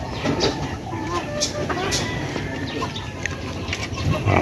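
A live chicken held by a buyer choosing birds at a poultry market gives faint clucks buried in steady crowd bustle and background voices.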